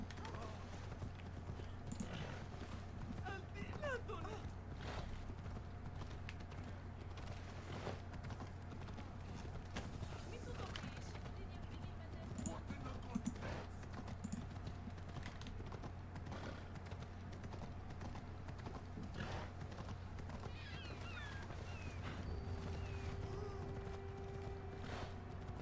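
Hooves clip-clop at a steady galloping rhythm in Assassin's Creed Odyssey for the whole stretch, with occasional creaks and other game sounds around them.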